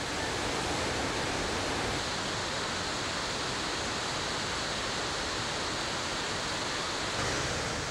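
Broad waterfalls roughly 400 meters wide plunging 50 meters, heard as a dense, continuous roar of falling water, loud and unchanging from start to finish.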